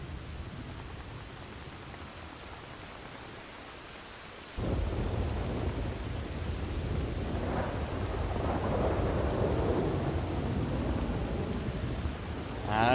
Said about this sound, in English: Might actually just be a normal storm.